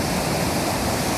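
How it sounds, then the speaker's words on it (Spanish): A waterfall fed by the Arroyo de las Mulas at Molino del Cubo roars loudly and close, a dense continuous rush of falling water with no voices. "Esta es la cascada que viene del Arroyo de las Mulas."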